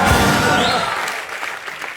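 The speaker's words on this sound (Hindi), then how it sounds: "जोरदार तालियां इनके लिए।" An audience at a comedy show applauds with a burst of clapping that is loud at first and then thins out and fades over a couple of seconds.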